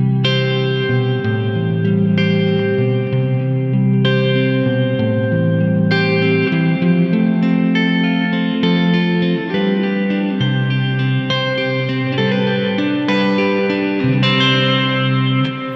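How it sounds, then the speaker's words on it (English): An electric guitar plays a continuous chordal passage through an Empress reverb stacked with a Chase Bliss pedal. Loud, sustained notes shimmer and wash together, each new strum blooming over the lingering ambience. "And now we add the Chase Bliss."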